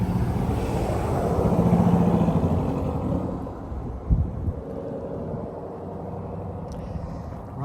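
A 1983 Jeep CJ-7 Renegade with Howell fuel injection, Borla headers and a Magnaflow muffler idles nearby with a low, steady engine rumble that swells briefly, then settles, with a sharp knock midway.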